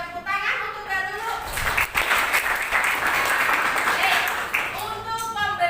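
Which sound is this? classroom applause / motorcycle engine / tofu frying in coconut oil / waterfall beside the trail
classroom applause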